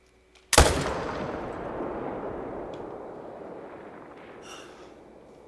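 A single loud rifle gunshot fired while hunting alligators in the video game theHunter: Call of the Wild, a sharp blast followed by a long rumbling decay, with no talking.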